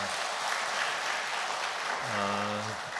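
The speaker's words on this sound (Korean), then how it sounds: "우리에게 위로와 넘치는 은혜를 주신 하나님께 우리 영광과 감사의 박수 한번 드립시다" Congregation at a Sunday church service breaks into sustained applause, a broad, even wash of many hands filling the space, with a brief voice rising over it near the end.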